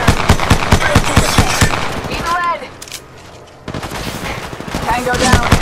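Gunfire in the battle royale game Apex Legends Mobile: rapid automatic bursts in quick succession, loud and close, with a short lull and in-game voice callouts heard during the action.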